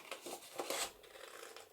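Small scissors snip paper for a junk journal, a few quiet, crisp cuts close by, with soft rustling between them.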